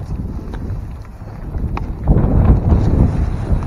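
Wind blowing outdoors around a goat kidding pen where hay is being raked, a steady low rumble buffeting the microphone and swelling louder in the second half, with faint scraping underneath.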